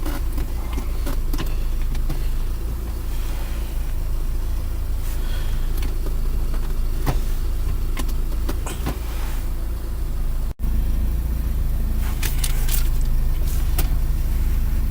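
Car engine running for a stall test while shifted into drive, a loud steady idle drone with mechanical clicks and rattles, one brief cut near the end.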